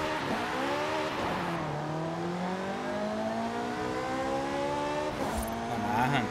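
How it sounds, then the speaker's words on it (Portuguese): Chevrolet Corvette Z06 engine in Forza Horizon 5, a continuous loud roar that climbs steadily in pitch through the gears with brief shift dips, close and sustained throughout, with no talk. "Olha o barulho do Corvette."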